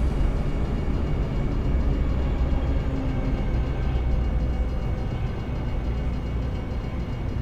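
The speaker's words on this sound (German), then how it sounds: "Ich glaube, ich höre das Ende des Zuges." A long freight train rolls past in American Truck Simulator, a steady, heavy low rumble of rail wagons that holds evenly throughout, loud and near, with no talking.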